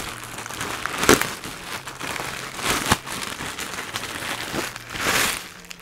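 Plastic packaging around a motorbike cover is pulled open, giving several bursts of crinkling and rustling between quieter handling noises. The sound is close, and no one speaks.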